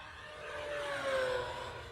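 An E-flite 1.5 m RC model warplane makes a high-speed pass at full throttle, its electric motor and propeller whine rising and then easing as it sweeps by at a moderate distance, faint and steady with no talk.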